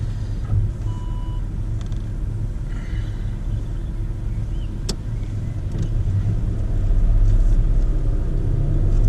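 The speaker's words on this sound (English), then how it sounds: "Now what I'd like you to do is to reverse out the bay, steer either to your left or right" A car reverses out of a parking bay during a mock driving test in Oxford: a steady low engine rumble runs throughout, swelling slightly near the end, with no talk.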